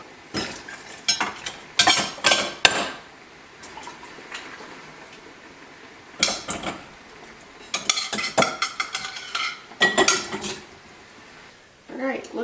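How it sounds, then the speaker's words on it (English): Homemade soup being ladled into glass canning jars, heard as intermittent clanks and scrapes of a metal ladle against pot and jar rims, coming in irregular bursts with quiet pauses and a faint pouring splash between them. "So I'm going to go ahead and start filling my jars now."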